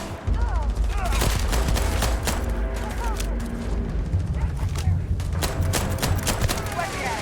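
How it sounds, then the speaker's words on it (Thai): Gunfire in the space game Starfield: dense bursts of rapid shots and sharp cracks, loud and continuous, with a person talking over much of the fighting. "มันยิงกันแล้ว"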